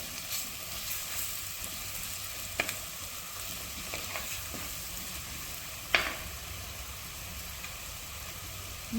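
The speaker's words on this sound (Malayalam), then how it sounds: "അപ്പോൾ മല്ലിപ്പൊടി ഇട്ടിട്ടൊന്ന് ഇളക്കുക" Coriander powder fries for Kerala-style mutton curry under a constant soft sizzle, with occasional light clicks and scrapes from a spoon stirring it in the pan.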